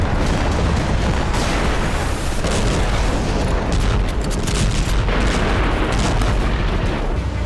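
Missile strikes in Crimea set off a dense, continuous roar of blasts and rumbling booms, with sharp bursts scattered through it, loud and unbroken throughout.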